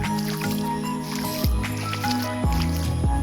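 Feet wading through rainwater flooding a street during a storm, with slow squelching, sloshing steps about once a second, close up, and a faint voice in the background.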